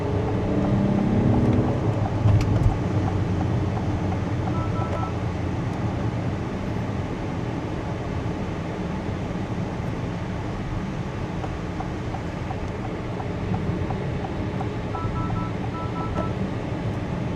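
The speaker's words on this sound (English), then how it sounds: "There is a little bit of road noise coming in from the 21-inch wheels" Steady low road rumble and tyre noise from the 21-inch wheels of a 2026 Acura MDX Type S on the move, a constant even drone inside the cabin with no talk.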